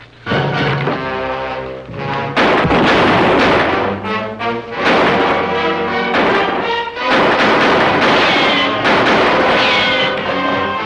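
A western gunfight: a rapid series of loud, close gunshots cracks out over about ten seconds, in uneven bursts with brief gaps between volleys.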